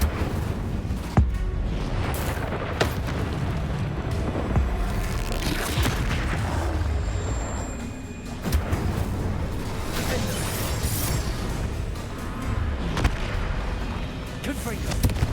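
Bombardo and Confringo spell blasts go off in the video game Hogwarts Legacy: a run of booming explosive bursts and pops, loud and frequent, mixed with ongoing battle noise and a voice speaking.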